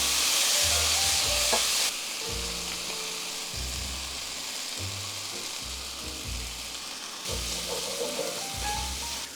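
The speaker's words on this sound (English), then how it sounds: "Now I'm going to cook off my rice in a little bit of butter, and then I add my dark soy sauce, light soy sauce" Rice cooking in butter with dark and light soy sauce in a pan gives a steady frying sizzle, with low stirring scrapes and bumps recurring throughout at close range.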